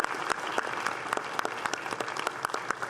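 Sustained audience applause for young people at a political gathering, a dense wash of clapping with sharp individual claps standing out throughout.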